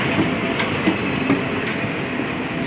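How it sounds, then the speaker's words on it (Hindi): An express train hauled by a WAP7 electric locomotive of the Ghaziabad shed passes close by, giving a loud, steady rumble of wheels on rails with faint rhythmic clatter throughout. "WAP7 लोकोमोटिव के साथ आई है जो गाजियाबाद शेड का है।"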